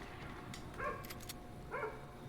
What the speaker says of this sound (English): Doggos are barking.